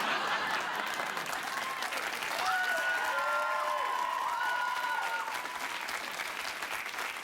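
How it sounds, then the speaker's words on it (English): A late-night talk show studio audience applauds steadily and loudly throughout, with a few whoops and cheers rising over the clapping. "they applauded me for putting him on camera"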